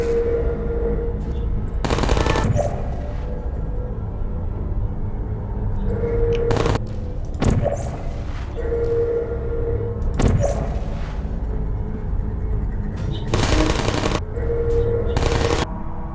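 Portal turrets fire rapid bursts of bullets in a test chamber. Several short, loud volleys come at irregular intervals over a steady humming backdrop with a faint tone.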